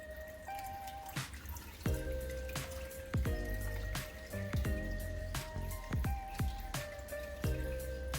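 Dissolved medication water dripping and trickling into an aquarium tank, with sharp drops and splashes over a steady faint hum of the tank, no talking.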